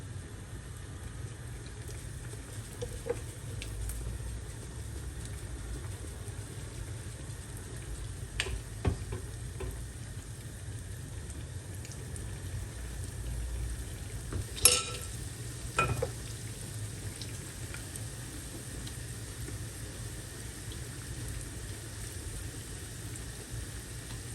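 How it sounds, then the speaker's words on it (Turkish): Spoonfuls of okra fritter batter dropped into hot oil in a pan give a faint, steady frying crackle with a few soft clinks of the spoon, no talking. "Yağım ısındı. Şimdi kaşık kaşık alıp tavaya bırakıyorum."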